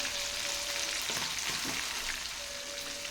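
Sardine (mathi) fish fries in oil in a pan for a mathi meen fry, giving a steady, dense sizzle with faint crackles and no talk over it.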